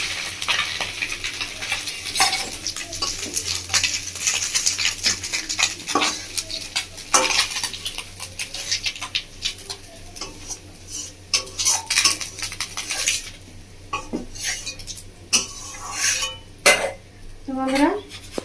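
Fried fish is lifted from a frying pan with metal utensils, giving repeated scraping and clinking over a soft oil sizzle, with intermittent talk.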